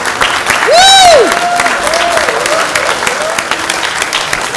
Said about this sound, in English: Can we give a hand of applause for these uniforms?